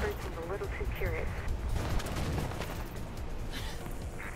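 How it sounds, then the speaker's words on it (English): Gunfire in the video game Mirror's Edge, a dense run of rapid shots and rumbling blasts filling the whole stretch, with voices talking over it. "I can hear gunshots"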